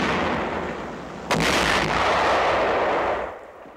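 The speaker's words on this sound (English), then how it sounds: "Tank of the 2nd Armored Division opens fire." A tank of the 2nd Armored Division fires its main gun in a wartime combat setting, one sharp loud blast followed by a long rumbling roar that slowly fades, heard alone over steady background noise.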